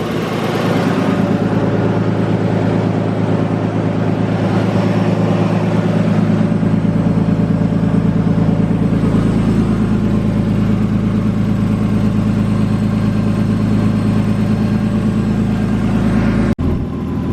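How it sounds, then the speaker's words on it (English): A Nissan R32 Skyline engine with a newly installed front-mount intercooler idles steadily and loudly up close, its low hum holding constant without revving, then cutting off abruptly near the end. "Idle's not fluctuating, it's staying constant."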